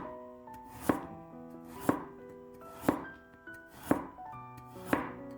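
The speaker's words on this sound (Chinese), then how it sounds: "先给它切成薄片" A knife cuts a peeled carrot into thin slices on a board, giving five crisp, evenly spaced chops about one second apart, close and fairly quiet, with no talking.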